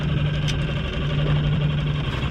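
Steady engine hum of a 6 horsepower Yamaha outboard motor pushing a Portabote folding boat, a continuous, fairly loud drone with a low tonal whine and even vibration throughout.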